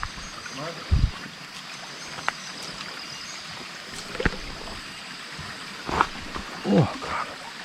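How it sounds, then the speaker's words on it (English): A small creek flows on a jungle trek near Bukit Lawang, a soft steady rush of water close by, broken by a few sharp knocks and brief bursts of breath or voice. "got a little creek."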